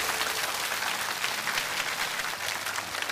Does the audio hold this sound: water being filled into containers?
no